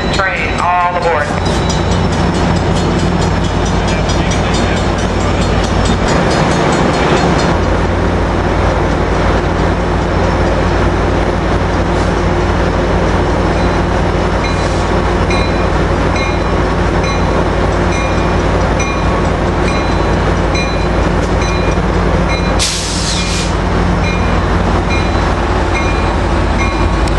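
Amtrak passenger train at San Juan Capistrano station, a loud steady rumble of rail cars and engine that runs nearly unbroken, with people talking and calling out over it.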